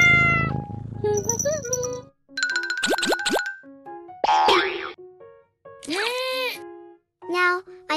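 Cartoon-style cat meows mixed with boings, plops and dings in a playful sequence of bright synthetic tones, several short bursts separated by brief gaps, near and loud with no talking.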